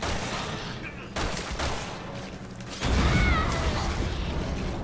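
Gunfire in Resident Evil 6 rattles through mechanical clanks and creaks, a dense fusillade that swells loud and close about halfway through, with a little voice mixed faintly beneath.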